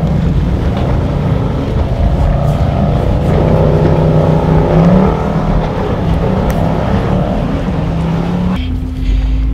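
Range Rover Sport in auto terrain mode climbing a muddy off-road hill, a loud sustained engine drone heard from inside the cabin with rumble and wind buffeting, holding steady before easing off near the end.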